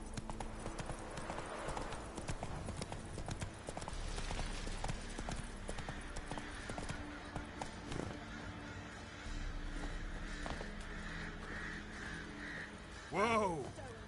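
Hooves of the horse Roach clip-clop steadily in The Witcher 3, a soft regular gait over game ambience, with someone speaking briefly.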